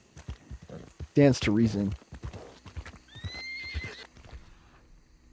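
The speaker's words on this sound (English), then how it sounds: "Let me see if I can get on my horse too" A horse in the Red Dead Redemption 2 video game whinnies loudly, with hooves clip-clopping steadily around it, while someone talks over the scene.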